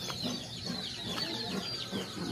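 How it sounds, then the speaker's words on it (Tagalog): Chickens cluck in short, scattered bursts from a few birds nearby, soft and irregular, with faint farmyard background and no talk. "ito yung mga manok natin"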